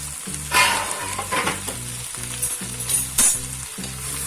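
Lamb ribs sizzle and fry in a hot pan before any oil is added, with a spoon stirring through them in repeated scraping strokes over a constant crackling hiss.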